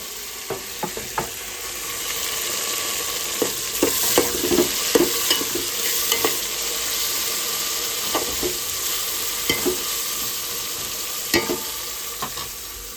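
Mint frying in hot oil for bagara rice, a steady close sizzle broken by scattered scraping clicks as a utensil stirs the pan, with no talking.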